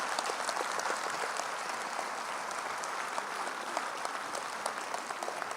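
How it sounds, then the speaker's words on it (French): Audience in a hall applauding volunteers at a community New Year's address, steady dense clapping throughout, moderately distant and even in level, with no voices over it. "je voudrais qu'on applaudisse les bénévoles"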